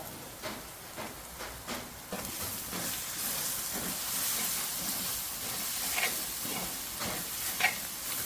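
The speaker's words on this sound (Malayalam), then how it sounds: "മസാലകൾ നല്ലോണം മൂത്ത് വരട്ടെ" Spices, turmeric, chilli and pepper powder, and chicken masala sizzle and hiss in a pan for coconut-milk chicken curry, with steady frying and periodic scraping stir strokes, close and moderately quiet.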